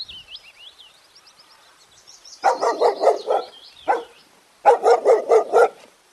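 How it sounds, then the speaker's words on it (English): A dog barks in quick volleys, a run of about five sharp barks, then a single bark, then another fast burst of five, close and clear after a high warbling whistle-like tone. "D for dog."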